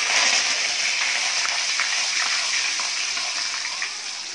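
Garlic and curry leaves sautéing in sesame oil for okra tamarind curry, a steady bright sizzle with faint crackles running unbroken at close range, easing slightly toward the end.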